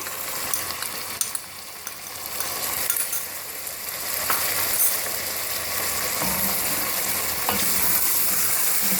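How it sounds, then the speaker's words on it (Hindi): Chicken with garlic ginger paste fries on high heat in a pan, giving a continuous sizzle with occasional scraping and stirring noises and no talk. "अब इसको तेज़ आंच पे भूनना ताकि चिकन की स्मेल ख़त्म हो जाए"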